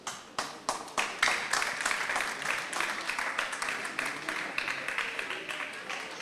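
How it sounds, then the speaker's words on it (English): Audience applause at a 50th anniversary gathering of the Methodist High School Ilesa old students' association, starting with a few scattered claps, then swelling into steady, dense clapping that continues throughout. "Why I appreciate the clapping"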